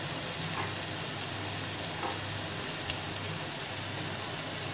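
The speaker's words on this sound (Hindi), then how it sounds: "अब इसको हम अच्छी तरीके से चला लेंगे, भून लेंगे" Spices with ginger garlic paste, turmeric and salt fry in a pan, giving a steady, even sizzle with a few faint stirring scrapes, fairly close and without talk.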